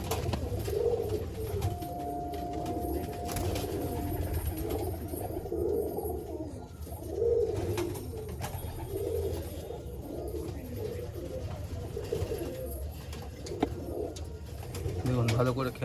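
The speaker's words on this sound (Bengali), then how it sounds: "দেখছেন কত সুন্দর পায়রা দেখুন।" Malwai pigeons coo nearby in soft, repeated low rolling calls with short pauses between them, while someone talks over them at times.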